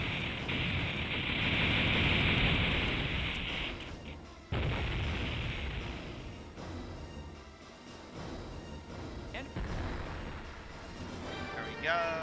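Spaceship weapons opening fire in the space battle game Infinite Space: a loud hissing barrage for the first few seconds, a sharp boom near four and a half seconds, then quieter crackling shots and mechanical tones.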